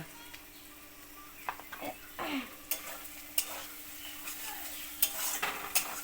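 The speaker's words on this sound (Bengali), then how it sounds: "এই দেখো আলু ভাজা হয়েছে" Potatoes fry in a pan while a utensil stirs them, soft sizzling underneath intermittent scraping clinks and knocks, with occasional voices faintly in the background.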